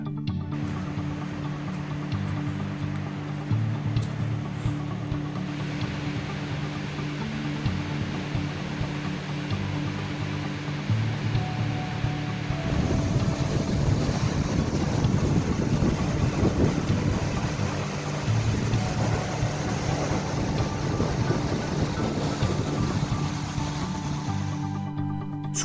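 Sutherland Falls on the Milford Track in New Zealand, a constant loud roar of falling water with wind buffeting the microphone, growing heavier and rougher about halfway through, with no voices.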